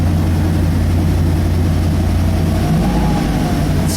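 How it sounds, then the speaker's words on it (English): A Ford Fairlane Crown Victoria glass-top engine runs at a steady idle, a continuous low rumble with a faint whine rising briefly near the end. "Get out so you can hear the engine."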